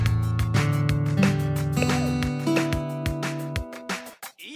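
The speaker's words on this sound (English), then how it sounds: "When we touch the node, yeah, that sounds like a guitar." Plucked guitar-like notes built with Nintendo Labo Toy-Con Garage play one after another in a steady sequence, loud and clear, with no voices.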